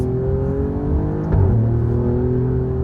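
A 2023 Alfa Romeo Giulia QV engine accelerating, a close, loud steady hum whose pitch climbs smoothly with a brief surge midway.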